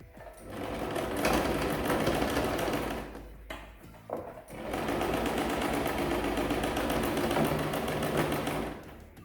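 A sewing machine closes the elastic casing of homemade swim shorts, running in two loud, fast, continuous stitching bursts separated by a short pause, close up with no speech.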